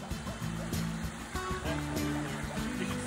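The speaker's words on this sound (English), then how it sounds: "You can see all the dirty water going down" Water rushing through a newly switched-on dog pond, a loud, continuous close-up gush and splash with a steady churning texture, no one speaking.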